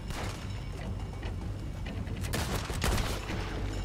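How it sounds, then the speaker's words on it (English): Slow-firing gun in Red Dead Redemption 2: a steady game soundscape broken by a couple of sharp, spaced shots near the end, with no talking. "It's quite slow firing this gun. I'm having to cock it every time I fire it"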